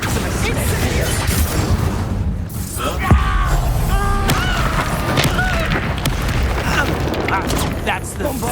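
Bombarda explosion spells go off repeatedly in Hogwarts Legacy, with a sharp thump standing out amid a continuous wash of booming, crashing combat noise, while character voices speak over the battle throughout.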